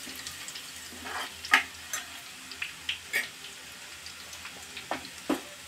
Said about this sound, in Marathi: लसूण असा सोनेरी रंग येईपर्यंत तळून घ्यायचा आहे तेलामध्ये